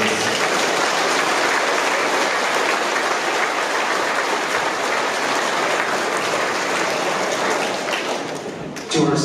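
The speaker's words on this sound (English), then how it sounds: "All right, so a round of applause." Steady, dense applause from parents and families at a graduation ceremony, sustained and even before thinning out at the end.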